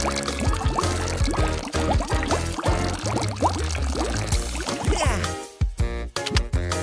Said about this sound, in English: Now let's pour out our special concoction.